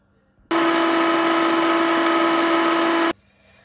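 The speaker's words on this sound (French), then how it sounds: "je viens de mettre donc les piments dans un blender. Donc là, dans un premier temps, je vais les hacher" Kitchen blender chopping chili peppers for a coconut chutney: a loud, steady motor whine starts abruptly, runs about two and a half seconds at constant pitch, then cuts off sharply into quiet.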